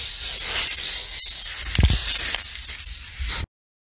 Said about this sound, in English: Not the greatest spray paint can in the world, but that's what it is.